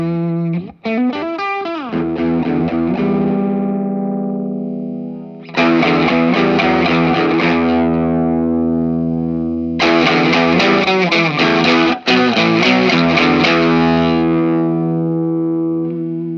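Electric guitar through a Mosky Silver Overdrive pedal with the treble boosted, playing loud, bright, gritty overdriven chords and riffs in three bursts with short gaps between them, no talking.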